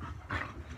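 Dogs pant indoors at home in quick, breathy huffs, close by and fairly soft, over a brief moment with no voices.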